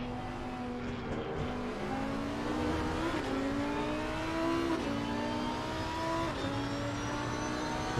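Lamborghini and Porsche race cars in a racing video game howl along the straight at Misano, engines revving steadily with rising pitch as they hold speed, loud and continuous with no talk.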